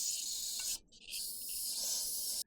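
Brake cleaner hisses from an aerosol can into an engine cylinder in two long, loud, close bursts with a brief break between them.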